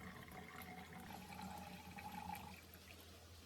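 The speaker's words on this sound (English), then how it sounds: "Pour the cooked yeast sugar mixture into the bottom of the bottle." A cooked yeast and sugar mixture poured into the bottom of a cut plastic bottle, giving a steady, faint liquid trickle and fill that runs continuously for a few seconds.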